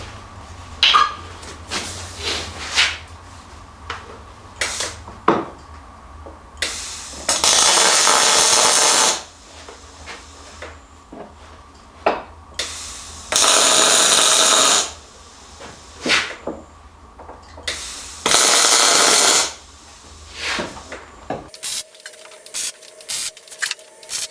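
MIG tack welds join steel ladder bars held in a wooden jig in a small weld shop. Three loud, steady buzzing bursts of about two seconds each are separated by clanks and clicks of handling.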